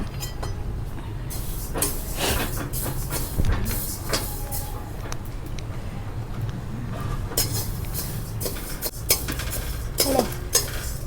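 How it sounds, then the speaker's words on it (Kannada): A batch from 1 kg of coriander seeds roasts in a pan for sambar powder, stirred continuously with dense rattling, scraping clatter of metal against metal, close and busy with no clear talk. "ಬ್ಯಾಚ್ ವೈಸಲ್ಲಿ ಹುರ್ಕೋತಾ ಇದ್ದಾರೆ. 1 kg ಧನಿಯಾ."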